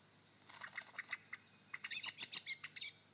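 A lyrebird mimics a blackbird's call in a forest, producing a run of sharp, high chirps and trills in two bursts, fairly close and clear against a quiet background.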